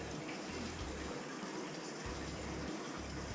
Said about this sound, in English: Water going in, around the coil, and out the supply